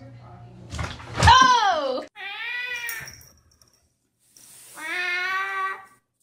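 Cats fight in a home, giving loud, wavering yowls and screeches in three separate bursts with short gaps between them, and a sharp thump or bang comes near the start.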